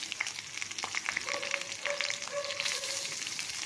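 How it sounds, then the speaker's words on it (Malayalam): Garlic, green chilli and curry leaves sauté in a hot pan for a potato and okra masala curry, a steady close sizzle with light stirring scrapes and no voices. "ഇതിലേക്ക് വെളുത്തുള്ളി അരിഞ്ഞത്, പച്ചമുളക്, കറിവേപ്പില ഇട്ട് കൊടുക്കാം. അത് നന്നായിട്ടൊന്ന് വഴറ്റിയെടുക്കുക"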